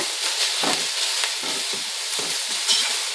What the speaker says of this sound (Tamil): புதினாவையும் சேர்த்துக்கலாம். மறுபடியும் ஒரு கிளறி விடுங்க.